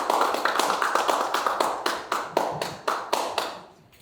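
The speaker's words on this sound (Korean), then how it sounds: "정말 큰 환영의 박수로 맞아주시기를 바랍니다" A small lecture audience claps to welcome Professor Shim Sang-dal, a run of sharp, distinct hand claps in a quick uneven rhythm that thins out and fades toward the end, with no talking.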